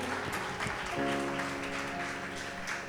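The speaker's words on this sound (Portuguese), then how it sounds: "Vamos dar un aplauso al hombre." A crowd applauds for a man at a religious gathering, clapping steadily and fairly loudly with a low tonal hum underneath and no clear talk.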